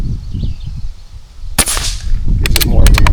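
Shots from a Barra 250z bolt-action air rifle, set up for squirrel hunting outdoors: one sharp crack cuts through steady background noise, followed by several quick clicks and snaps, likely from working the bolt.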